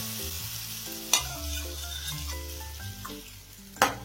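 Lemon pickle sautés in sesame oil in a pan, giving a low, steady frying sizzle with tonal squeaks and two sharp scraping clatters from stirring.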